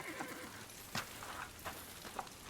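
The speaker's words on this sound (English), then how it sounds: "The horses seem a little spooked to you." Spooked horses whinny in a Game of Thrones scene, a faint, distant neigh and snorting mixed with soft hoof clops over low ambient noise.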